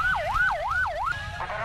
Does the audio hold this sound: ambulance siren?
yes